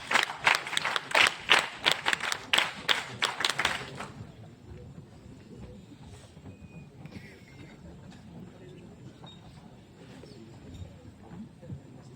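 Prize winners at a naval NCC camp get a short round of applause: about a dozen sharp, evenly spaced rhythmic claps from a group, close and loud, stopping abruptly and leaving quiet outdoor ambience with faint birds.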